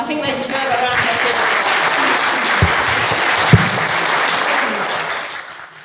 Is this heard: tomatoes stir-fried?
no